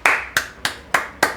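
Five sharp hand claps in a slow, steady rhythm, close and distinct with short decays, given in praise of a football player after a match against Botafogo.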